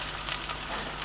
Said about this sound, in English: we're going to allow the bacon just to render some of that fat out